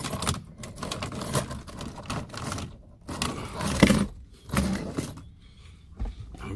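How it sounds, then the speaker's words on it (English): Car keys jangle and clink in short bursts inside a parked car, close and fairly quiet, with brief handling rustles between the metallic rattles and no talking. "Let me put the keys right here."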